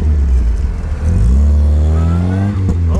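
A Lada Niva engine revs loud and close as it struggles to drive out of thick mud, a steady heavy roar with rising and falling pitch as the wheels slip.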